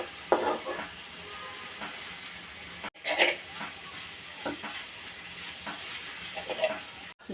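Potatoes, shrimp and onion being stir-fried in a pan, with soft steady sizzling under intermittent scraping stirs from a utensil and occasional clinks, fairly quiet and close.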